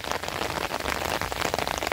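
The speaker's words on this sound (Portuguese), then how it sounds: "a chuva tá engrossando" Heavy rain falling on a garden and its plants, a dense, steady patter of drops hitting leaves and surfaces, loud and close with no voices.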